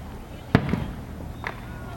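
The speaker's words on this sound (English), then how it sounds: "Mom's videotaping the fireworks" Fourth of July fireworks going off at a distance, one sharp bang followed by a smaller pop and a faint later crackle, over a low background hum.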